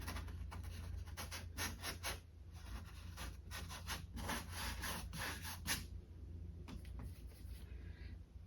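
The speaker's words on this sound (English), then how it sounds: "I'm going to turn my brush over like this and just use the bottom or belly of the brush to scrape a little bit of texture" Paintbrush belly scraping acrylic paint onto canvas to build texture for mountain peaks, heard as a quiet, steady run of dry rubbing strokes in short bursts with brief pauses, close up and without talk.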